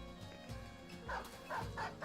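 Dog barking in the Battle Brothers video game, a few short yips and barks over a busy in-game background of battle sounds.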